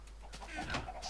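A chicken in the video game Minecraft clucks briefly and faintly against steady background noise.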